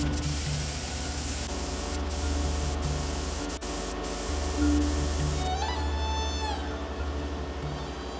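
Paint spray gun spraying primer inside a barn, a continuous close hissing spray with short pauses and a steady hum underneath.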